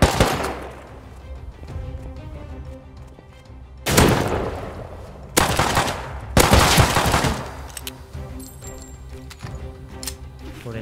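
Bursts of rapid gunfire break out over a steady background hum, with several loud volleys close by and scattered ticking sounds between them.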